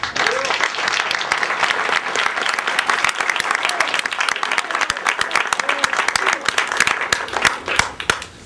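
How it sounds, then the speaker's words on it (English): An audience at an Army Air Assault School graduation ceremony at Fort Campbell, Kentucky, gives the graduating soldiers a sustained round of applause, dense clapping from a large crowd that carries on steadily for several seconds before tapering at the end. "Please join me in a round of applause."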